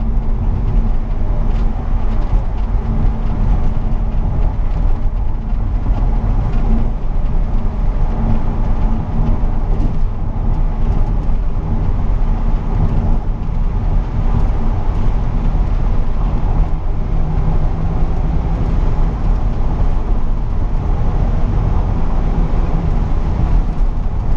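Steady cabin rumble of a BMW 535d E61 diesel estate cruising on an extra-urban road at sunset, a continuous low road and engine drone with no talk throughout.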